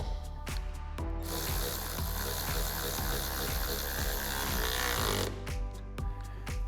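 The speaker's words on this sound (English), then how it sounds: "using a T50 bit on an electric ratchet, we can tighten that down" An electric ratchet fitted with a T50 bit drives an M8 bolt tight while installing a Bestop soft top on a Jeep Wrangler JL, giving a steady, loud mechanical whir with rapid clicking throughout before winding down.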